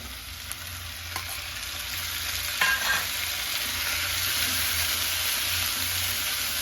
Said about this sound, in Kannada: ಫ್ರೆಂಡ್ಸ್, ಈಗ ಹಸಿಮೆಣಸಿನಕಾಯಿ ಫ್ರೈ ಆಗಿದೆ. ಈಗ ಇದಕ್ಕೆ ಟೊಮೊಟೊ ಆ್ಯಡ್ ಮಾಡ್ಕೊತೀನಿ.